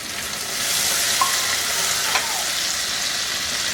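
Green chillies and chopped tomato sizzle in a pan with a steady, close frying hiss and a couple of faint clinks from stirring, with no voices.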